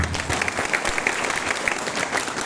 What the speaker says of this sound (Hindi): संतुष्ट है तो एक बार ताली बजा लीजिए।